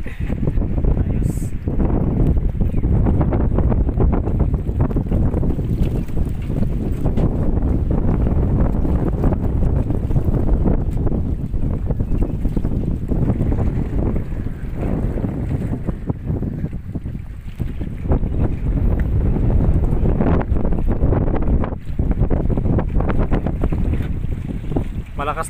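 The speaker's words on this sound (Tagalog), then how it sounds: "Malakas lang yung hangin pero kayang-kaya." Strong wind at the sea roars and buffets the microphone nonstop, a heavy rumbling gust noise with faint water sounds underneath.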